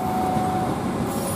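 An Indonesian Kertajaya passenger train from Surabaya rolls past as a steady broadband rumble with a faint tonal whine, close and continuous throughout the short stretch, with no voices.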